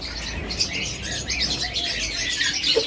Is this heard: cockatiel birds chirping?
yes